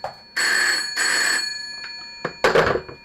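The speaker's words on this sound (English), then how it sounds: "There you go, the phone up there is ringing." A telephone bell rings in a shed with two loud clanging bursts, followed by a few shorter, uneven rings as the sound trails off.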